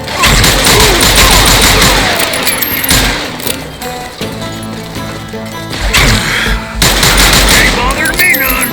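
Repeated gunfire in the Western shooter Call of Juarez Gunslinger, loud dense bursts of shots with a quieter stretch midway, mixed with crashes and a voice talking over the action.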